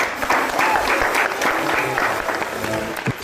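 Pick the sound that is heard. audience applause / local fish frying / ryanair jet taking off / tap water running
audience applause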